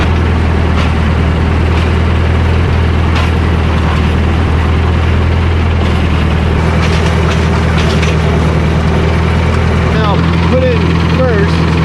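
A farm tractor engine starts and runs, a loud steady rumble dominating throughout at close range, with a person talking over it.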